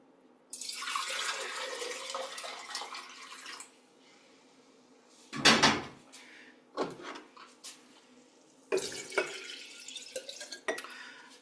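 Sweet tea pours into a kombucha brewing jar in bursts: a long splashing stream, then shorter gushes and trickles with glassy clinks between pours, close up and without speech.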